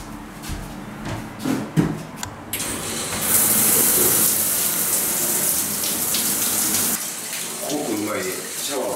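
Rushing water sprays steadily from a shower in a private sauna room, starting after a few soft knocks and rustles and continuing with a brief change near the end.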